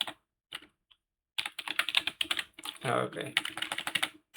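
Quick bursts of typing on a computer keyboard as a folder name is entered, close and crisp clicking in uneven runs after a short spoken word.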